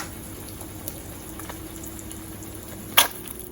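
Bacon drippings are poured from a pan into a drippings catcher: a low, steady liquid trickle and faint sizzle, fairly quiet and alone, with a brief sharp clink near the end.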